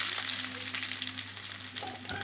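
Grated coconut and nuts sizzle steadily in hot oil, frying for ginger curry with a constant close crackle and a few stirring clinks near the end, and no talk.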